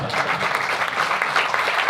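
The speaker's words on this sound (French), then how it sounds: "On peut même t'applaudir." An audience applauds steadily at a philanthropy and nonprofit association event, dense even clapping from many hands sustained without a break, fairly close and moderately loud.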